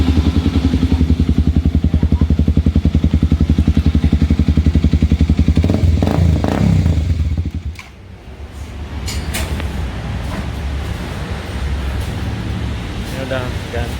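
An Aprilia Dtracker 250 motorcycle with an aftermarket exhaust idles loudly and revs in a steady drone for about eight seconds, then drops to a lower, rougher idle, with some clatter and people talking nearby.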